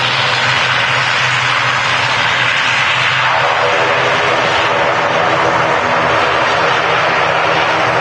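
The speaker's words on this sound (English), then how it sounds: "There she goes, the Logan Air ATR 72" A Logan Air ATR 72 turboprop departs Manchester Airport with a loud, steady roar and a broad propeller drone that shifts in pitch as the airliner moves away. The engine noise fills the scene with no pauses.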